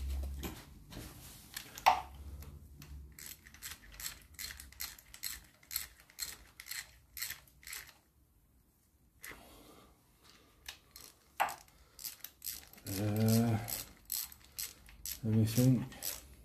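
Ratchet clicks and metallic clanks come in close, irregular bursts as bolts are tightened while fitting the timing gear on a Land Rover Series 3 2 1/4 diesel engine, with a few quieter pauses between.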